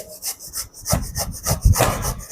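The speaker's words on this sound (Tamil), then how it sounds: "பொறுமையாக திருவி எடுக்கணும் கொட்டையை திருவிடக்கூடாது" Raw mango is grated by hand for pickle, producing loud, rhythmic rasping strokes, about four to five per second, close up and without any speech.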